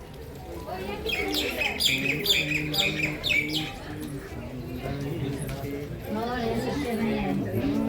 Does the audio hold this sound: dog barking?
no